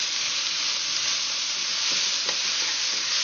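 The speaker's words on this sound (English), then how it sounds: "I'm going to add some asparagus stalks from the center part of the asparagus. A couple of cloves of fresh garlic." Asparagus stalks and fresh garlic cloves fry in a pan, a continuous close sizzle with soft stirring scrapes near the end, steady and moderately loud, no voices.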